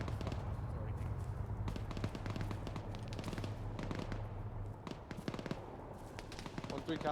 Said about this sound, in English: Oh, shots coming in.